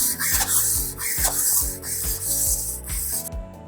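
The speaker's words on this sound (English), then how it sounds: "Make sure your griddle is hot and start scraping away." A grill brick scrapes across a hot Omcan countertop gas griddle in steady back-and-forth strokes, a close, loud and gritty rasp over a constant sizzling hiss, with no voices.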